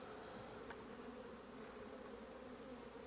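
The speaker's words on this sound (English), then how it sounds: "bees are still a bit touchy they've still got that old queen's genetics" Agitated honeybees carrying an old queen's genetics buzzing around an opened hive in a Mt. Coramba apiary, a faint, steady, droning hum of many insects with no talk.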